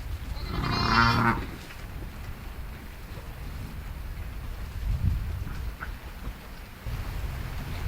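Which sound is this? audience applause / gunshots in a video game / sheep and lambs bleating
sheep and lambs bleating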